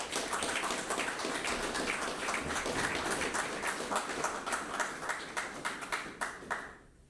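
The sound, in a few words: audience applause at a commando course closing ceremony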